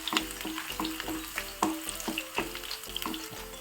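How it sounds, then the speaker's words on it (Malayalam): Garlic fries in hot oil in a pan with a steady, close sizzle, broken by regular scraping strokes of a spoon stirring it, and no voices. "വെളുത്തുള്ളി അത് നല്ലതായിട്ട് അങ്ങോട്ട് ഫ്രൈ ആകുമ്പോൾ"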